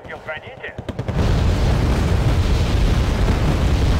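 Heavy blasts as T-55 tanks are hit in the Wargame: Red Dragon combat game, a few scattered pops first, then a sustained roaring wall of explosion noise that stays loud to the end.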